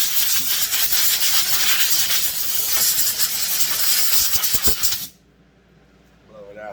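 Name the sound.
aerosol brake cleaner sprayed into a chainsaw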